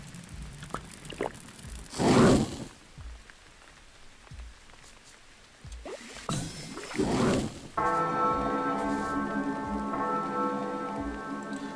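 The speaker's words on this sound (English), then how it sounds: "This, like, harsh church bell tone every single time something dies." A harsh, church-bell-like tone rings out with a sustained shimmer as enemies die in the action RPG BattleJuice Alchemist, following a few loud splashy bursts of combat effects.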